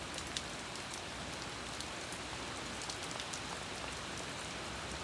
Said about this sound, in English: While we're just getting rain here,